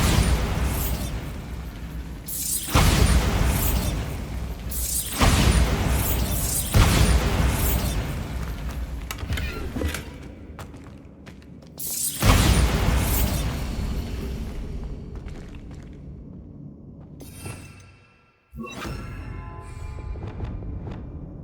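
Bombarda explosion spells cast in the video game Hogwarts Legacy, a series of loud booming blasts with rumbling tails spaced a few seconds apart, then a quieter stretch before a final burst.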